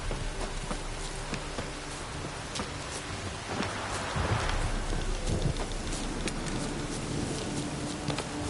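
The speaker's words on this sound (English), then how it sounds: "This downpour's a bastard, it is." Heavy rain pours steadily in The Witcher 3, a dense broadband downpour that thickens midway and keeps up throughout.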